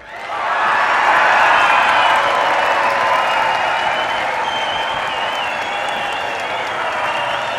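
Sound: audience roaring, clapping and stamping

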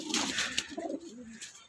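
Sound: pigeons cooing

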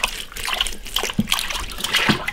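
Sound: washing pork ribs in water

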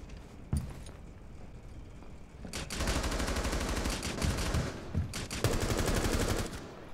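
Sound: gunfire in Rainbow Six Siege video game

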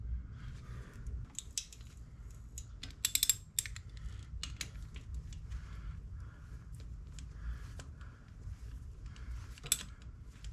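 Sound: screws being reinstalled on a motorcycle stator

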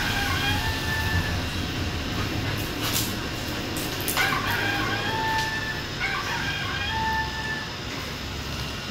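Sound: dog toy chicken crowing like a rooster

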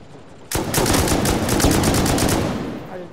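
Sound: helicopter attacking the base with gunfire in a video game

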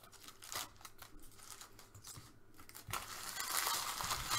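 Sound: ripping open trading card packs

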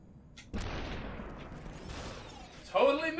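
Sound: gunshots in the video game SUPERHOT

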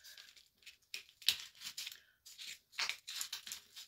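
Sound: cutting wreath material with scissors

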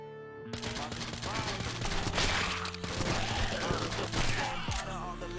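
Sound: gunfire in the video game Last Hope 3: Sniper Zombie War

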